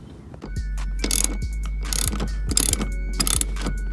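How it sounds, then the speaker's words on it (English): Ratchet wrench unbolting seat bolts inside a Honda Accord, rapid clicking ratchet strokes repeating in short bursts over a low steady hum, close up with no talk. "Now I'm unbolting the seats, and I just got these 2 bolts left"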